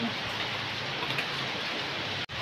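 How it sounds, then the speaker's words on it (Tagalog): Heavy rain pours down steadily as a dense, loud hiss, with a brief break near the end. "Maulan, malakas ang ulan."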